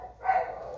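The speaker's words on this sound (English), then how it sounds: "Sorry, the dog." A dog barks once, muffled and moderately faint, in a quiet room inside a house.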